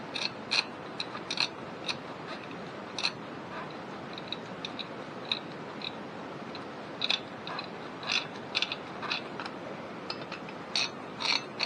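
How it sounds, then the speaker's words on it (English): Screws being driven down by hand into a crypto mining rig frame while assembling the build, with a steady run of small, close ratcheting clicks and metallic ticks spread over several seconds. "we're gonna screw down the screws first"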